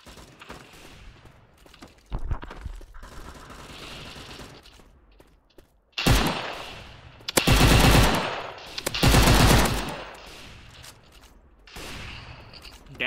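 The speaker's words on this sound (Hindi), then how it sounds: "देखते हैं पीछे की तरफ क्या पावर है गन की" Bursts of AK5 automatic fire in the Maskgun FPS shooting game, loud rapid rattling volleys of several seconds each, separated by quieter gaps of game ambience, with a voice talking faintly in places.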